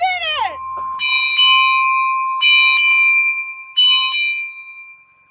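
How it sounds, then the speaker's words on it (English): A ship's bell on a sailboat in the southern hemisphere rings in several clear metallic strikes, single and paired, each left to ring out, loud and close, after a brief voice at the start. "The first ringing of the ship's bell in the southern hemisphere."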